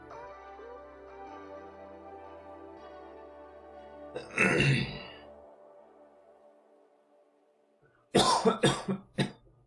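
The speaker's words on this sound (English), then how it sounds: "Sorry to be coughing like this." A person coughs once, then again in a harsh cluster of several quick coughs near the end, with quiet music in the background.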